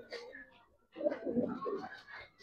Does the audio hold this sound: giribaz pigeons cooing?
yes